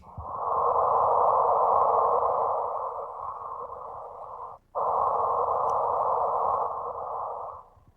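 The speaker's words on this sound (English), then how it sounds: "you will hear this whoop, this chirp in the data" A gravitational-wave chirp signal shifted into the audible range is played back as two long, smooth breathy whooshing tones separated by a brief gap, fairly soft and alone.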